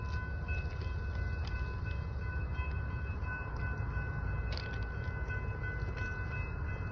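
An intermodal freight train rumbles steadily past with a constant low roar and faint metallic squeals, continuous throughout with no voices.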